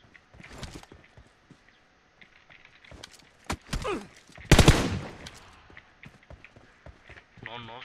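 Gunshots in PUBG Mobile crack out in scattered single shots with one loud burst in the middle, mixed with footsteps-like taps while someone talks over them.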